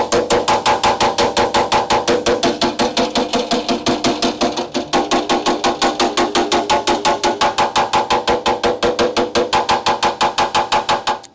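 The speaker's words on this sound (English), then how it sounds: "Time to use the hammer to make sure." Hammer hitting a steel frame rail on a Crew Cab Charger build. Rapid, even metallic blows ring out loud and close in a long unbroken run, with one short pause partway through.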